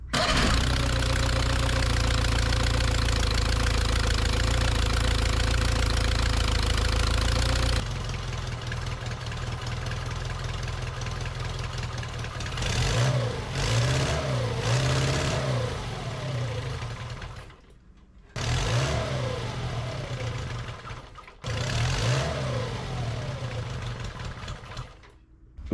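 A small engine in a homemade prewar-style single-seater race car with a temporary exhaust buzzes steadily, then revs up and down several times in sharp bursts, cutting out briefly between throttle blips.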